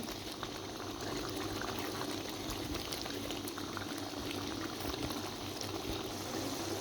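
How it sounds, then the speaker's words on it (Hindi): Onion and egg curry masala fries in a pan until its water cooks off, giving a steady, close sizzling and bubbling that continues throughout without any talk. "अब जब तक इसका पानी ड्राई नहीं हो जाता, खुशक नहीं हो जाता, हम इसको अच्छी तरह भून लेंगे।"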